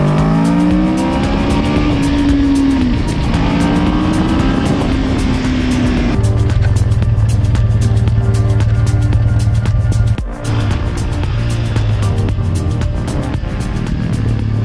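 Motorcycle riding on mountain roads in Corsica, a loud, close engine drone with wind rush whose pitch rises and falls through gear changes, sustained the whole time with no voices.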